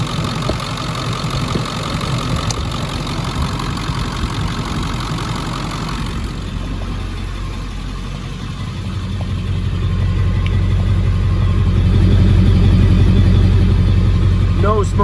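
A 2000 Ford Excursion engine runs steadily at idle with a low droning rumble that rises somewhat in the latter half. A person talks over it.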